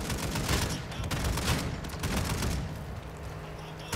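Sustained gunfire in the video game Warzone, dense overlapping shots and bursts at steady loudness throughout, easing slightly near the end.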